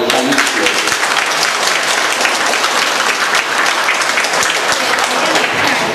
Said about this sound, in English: Give them a big round of applause for the Chinese schools.